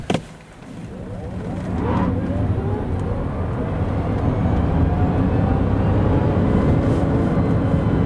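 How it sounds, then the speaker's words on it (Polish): A 2026 Chery Tiggo 9 plug-in hybrid SUV with 428 hp accelerating hard from 0 to 100 km/h, heard as a low, steadily building rumble of drivetrain and road noise that swells after a brief start and holds loud and continuous, with no talking. "samochód tak przyspieszy od 0 do setki"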